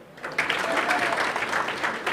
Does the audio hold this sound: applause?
yes